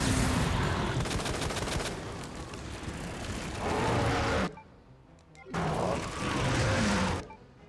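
Handgun shots crack in bursts during a Resident Evil 2 Remake fight, loud stretches of repeated firing broken by short silent gaps, with other game noise mixed in.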